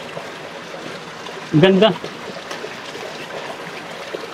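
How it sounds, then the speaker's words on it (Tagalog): Falling water from a small waterfall by a little cave at Ilog Bulbok in Alfonso, Cavite, gives a steady, even rush throughout. A person speaks briefly over it partway through. "Maliit na kuweba lang tapos may magandang bagsak ng tubig dito."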